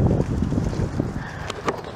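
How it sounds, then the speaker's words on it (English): Wind outdoors buffets the microphone in a steady, rumbling roar with gusty low-end swells, loud and close, with no voices. "the wind attacked you"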